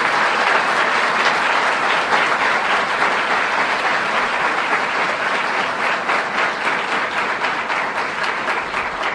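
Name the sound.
audience applause, clapping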